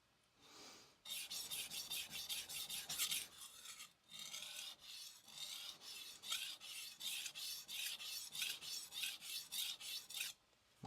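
A Nakamura Hamono curved bunka kitchen knife drawn across a Morihei 1000-grit whetstone, a close, steady rasping scrape in repeated back-and-forth strokes with one short pause.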